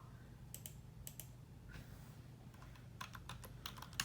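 Typing on a computer keyboard, clusters of quick light key clicks in short bursts with pauses between, close and quiet over a low background hum.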